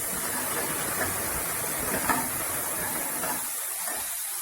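Mustard seeds crackle and pop in hot oil as fenugreek seeds go into the pan, giving a steady hissing sizzle with scattered small pops, close and continuous throughout.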